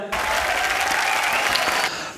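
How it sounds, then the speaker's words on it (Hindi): Loud, full audience applause rises abruptly at a comedy show, holding as a dense roar of clapping for nearly two seconds before cutting off sharply. "एक बार आपकी भरपूर तालियां हो जाए।"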